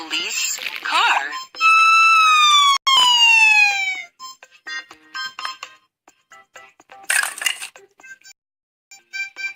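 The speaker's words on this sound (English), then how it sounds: "Police car." A cartoonish police car siren in a kids' transport puzzle game wails in two rising sweeps, loud and close, followed by chiming clinks and short game effects, with a voice speaking at the start.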